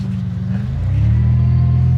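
A car engine runs steadily at close range, a loud low rumble that swells slightly after the first second and then holds even, with no voices over it.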